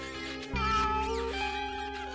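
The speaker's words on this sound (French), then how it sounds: "Et un chat noir." A black cat meows in a French cartoon episode, a single drawn-out, rising and falling meow heard clearly over soft background music.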